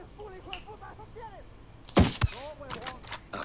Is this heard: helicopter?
no